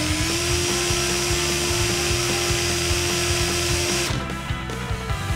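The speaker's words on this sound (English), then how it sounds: "We're just going to turn on the drill." A power drill whines steadily at close range while twisting wire for a fused Clapton coil, a constant high motor hum that dips slightly near the end.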